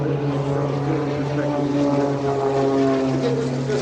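An aerobatic propeller airplane flying a spin display at an airshow gives a steady, loud droning engine tone that holds throughout, with a faint voice mixed underneath.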